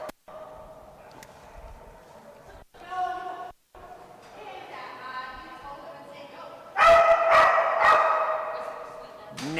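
A cattle dog barks repeatedly at a dock diving distance jump event, with scattered yips early on and then a loud, close burst of barking near the end over background noise.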